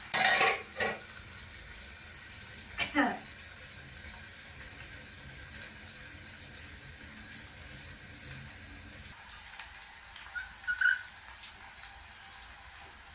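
A pan of bitter gourd curry being stirred, with a scrape of the spoon and a soft sizzle near the start, then a low steady cooking hiss with scattered small clinks.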